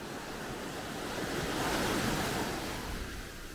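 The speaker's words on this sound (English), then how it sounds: "the swell picks you up and throw you onto the beach every now and then" Ocean swell breaking and washing onto the beach at the Baths in the British Virgin Islands, a steady broadband roar of surf that swells to a peak midway and eases off, mixed with some wind, no voices.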